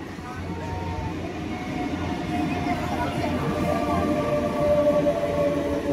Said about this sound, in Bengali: হ্যাঁ, ট্রেন আসছে।